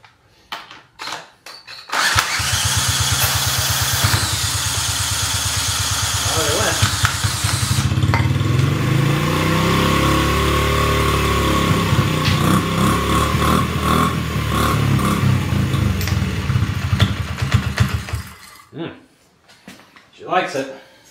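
A Honda CRF50F dirt bike, a neglected project machine, catches and starts, revving roughly before settling into a loud, close idle that runs for about sixteen seconds and then cuts off.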